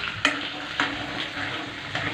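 Green chillies sizzle steadily in hot oil for mango pickle, with a spoon stirring and a few sharp scrapes and clinks against the pan.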